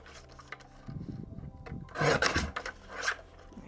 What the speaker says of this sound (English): we're just going to take these other little pieces that we've just stamped and just trim the border